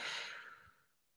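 A single forceful exhale, breathy and close, starting strong and trailing off over about a second.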